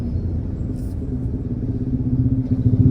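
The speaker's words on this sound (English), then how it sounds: "Loud motorbike." A loud motorbike passes on a road in Malaysia, heard from inside a car as a steady low engine rumble that swells toward the end, drowning out the cabin hum.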